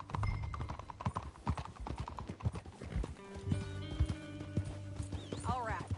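Horse hooves clip-clop steadily through a Red Dead Redemption 2 ride, a close, rhythmic trot that continues under ongoing talk and a few brief whinny-like calls.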